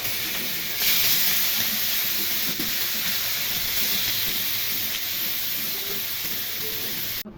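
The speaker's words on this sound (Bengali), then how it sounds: "তেল গরম হয়ে গেছে, এখন মাছগুলো ভেজে নেব।" Fish, roe-filled silver carp, fries in hot oil with a loud, steady hiss that holds evenly for several seconds before cutting off abruptly.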